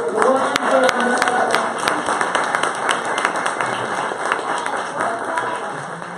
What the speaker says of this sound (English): just give Tara an amazing round of applause.